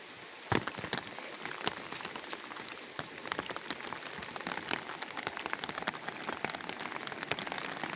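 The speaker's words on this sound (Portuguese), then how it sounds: "Choveu ontem o dia e tá chovendo a noite todinha aqui." Heavy rain pours steadily on a rural farm plot at night, a dense continuous patter with sharp close drops striking surfaces throughout, no voices.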